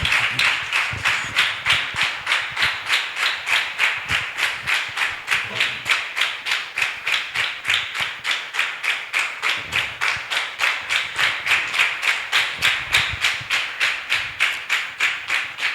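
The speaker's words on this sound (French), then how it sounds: "Nous allons inviter l'évangéliste Alexandre avec l'acclamation." A church congregation at a youth prayer gathering claps in a fast, even unison rhythm, loud and close, with each beat a sharp slap repeating steadily for about sixteen seconds, faint voices and low thuds underneath.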